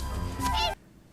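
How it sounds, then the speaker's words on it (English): A strange cat-like hybrid creature in an animated film gives one warbling, meow-like call that ends abruptly, with soundtrack and movie ambience underneath. "Really freaky cat"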